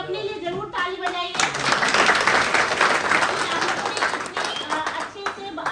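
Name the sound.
audience clapping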